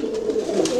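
A pair of opal-coloured Pouter pigeons, male and female, coo steadily up close, a low, throaty rolling call that continues without pause.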